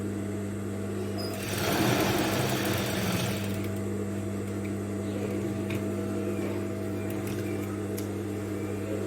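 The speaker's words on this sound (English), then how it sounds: "After doing that, you need to top stitch." A sewing machine runs steadily while top stitching along a garment facing, its motor hum and fast needle rhythm continuous and close, with a louder rattling surge near the start.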